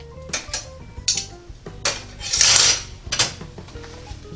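A metal rack in a NuWave Bravo smart oven air fryer being adjusted, several sharp metallic clanks and scrapes spaced through the clip, with a longer grinding slide in the middle and no speech.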